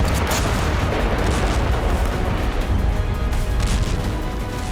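Russian bombardment in Avdiivka, Ukraine, producing a dense continuous roar of distant explosions and artillery-like rumbling, sustained and loud throughout with no speech.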